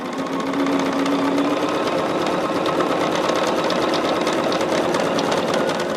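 A sewing machine runs steadily while stitching a quilt, a continuous close-up mechanical whir and rapid needle chatter lasting the whole stretch with no pauses.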